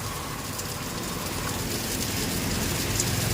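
Steady rain falls on a flooded road in Dhoraji, giving a continuous soft patter and hiss with a low rumbling background, fairly faint and without talk.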